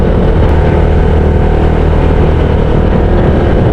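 A small motorcycle climbs a steep mountain road in Ifugao with a loud, continuous engine roar and road rumble, close and steady throughout.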